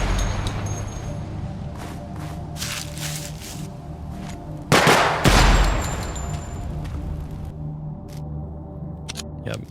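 Rapid 5.56 rifle fire in a Project Silverfish weapons test: several short bursts of sharp shots, with a louder, heavier volley in the middle, over a low steady background hum.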